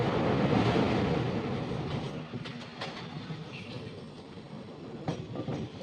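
A long-distance passenger train rolls into Prayagraj Junction, a steady rumble of wheels and carriages with occasional sharp clicks and squeals from the rails, loud and close from inside the train.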